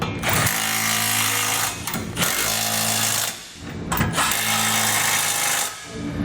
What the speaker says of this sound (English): You want to come back with either a 19mm socket or a 3/4 inch socket and tighten up all your hardware.